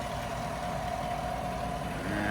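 A 2016 GMC Sierra 1500 pickup with a 5.3 liter V8 engine idles with a low, steady rumble, constant and close, with no voices.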